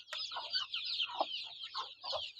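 Chickens and chicks in a coop, with soft repeated clucks and fowl calls over a continuous high chick peeping, faint and close.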